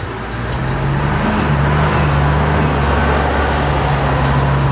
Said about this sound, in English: A bunch of loud trucks driving by my neighborhood.